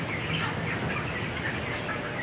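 Chickens on a poultry farm, about 21 days old, make a dense, continuous murmur of faint clucks and chirps throughout, with no speech.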